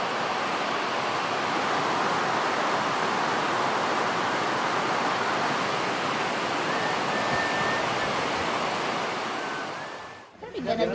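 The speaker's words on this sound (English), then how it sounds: "When it rains here, it pours. I don't know if you can hear me, but it's raining hard." Heavy tropical rain pouring down outside at a jungle school in the Philippines, a dense, steady roar that fills the air for about ten seconds before cutting off abruptly.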